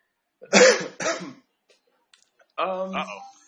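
Two harsh coughs close together, then after a short pause a gruff throat-clearing sound, all close and fairly loud.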